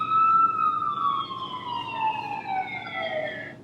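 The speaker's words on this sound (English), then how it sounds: "There was a police car, or a bunch of police cars," Police car sirens wail continuously and fairly loudly, with several sliding tones overlapping as they slowly descend in pitch, heard alone over faint road noise.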